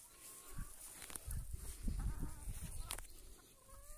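Chickens cluck and a rooster calls on a Brazilian farm, several short bird calls close by over low background rustle, with other farm animals faintly present.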